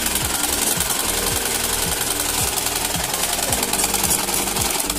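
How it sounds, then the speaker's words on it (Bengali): Sewing machine stitching a hard strap for a kangaroo-style shoe, running steadily with a rapid mechanical chatter and regular low thumps from the needle, loud and continuous throughout. "এক সাইডে সেলাই করা হচ্ছে সুন্দর করে যাতে ফিতাটা লাস্টিং করে ভালো।"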